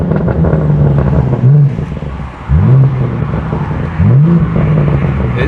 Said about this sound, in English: I'm gonna do a second gear pull and you can kind of hear it.